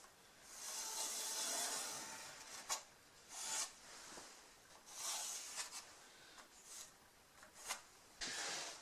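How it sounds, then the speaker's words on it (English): Pencil or marker rasping along wood while a line is marked around the inside of a TV table top, in several scratchy strokes of varying length, close and fairly quiet, with no talking. "I'm going to just put a line around on the inside."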